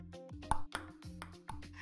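A mobile phone notification plays during an Eleven Table Tennis VR match on Quest 2, short bright pings and taps repeating in a quick rhythm over a tonal game background, fairly close and clear with no talk.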